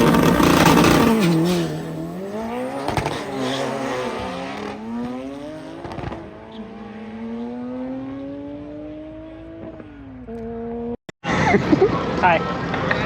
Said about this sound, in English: That's a motor right there.